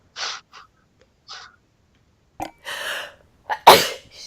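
A few sharp breathy intakes build up, then a loud, forceful sneeze bursts out near the end, close and sudden.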